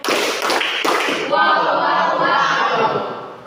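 A class of students beats out a short rhythmic run of hand claps in a classroom chant game, followed by the whole group shouting a chant together.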